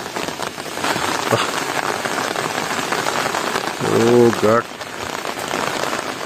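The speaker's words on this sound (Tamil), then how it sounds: "நல்ல மழைங்க" Heavy morning rain in Palani pours down over flooded fields in a steady, dense hiss. A voice briefly exclaims partway through.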